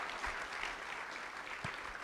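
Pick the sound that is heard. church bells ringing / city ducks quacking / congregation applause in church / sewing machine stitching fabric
congregation applause in church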